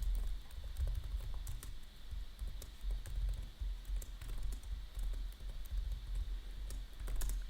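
Rapid typing on a computer keyboard while setting up an Arch Linux user account and password: a continuous close run of light key clicks at an uneven, quick pace with no voices.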